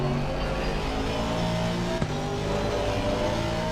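The engine of a race car in the Assetto Corsa Competizione sim racing game drones at a steady, held pitch as if stuck in the wrong gear, with a faint click partway through.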